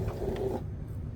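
An old sewing machine running close by in a short burst, a steady mechanical whir and rattle that drops away partway through, with no one talking.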